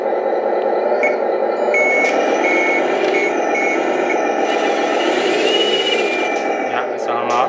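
A LESU 1/14 scale metal 8x8 RC tractor truck with a Mercedes Hercules cab drives with all wheels turning, giving a steady loud engine-like drone with repeated electronic beeps, close up.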